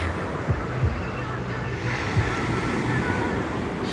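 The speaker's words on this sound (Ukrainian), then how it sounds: "А я одна поближче до хвиляк, щоб чутно було море." Sea waves wash steadily onto JBR Beach in Dubai, a continuous rushing roar mixed with gusts of wind buffeting the microphone.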